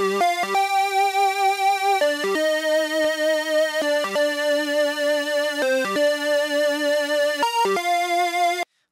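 A bright, buzzy synthesizer lead with a 12 dB low-pass filter plays a sustained melodic line of held notes with quick pitch changes, steady and loud, no voices.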